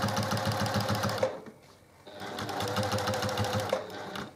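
A sewing machine stitching quilting runs at a steady, fast mechanical rhythm, pauses briefly, then resumes at the same even pace, close and clear with no talking.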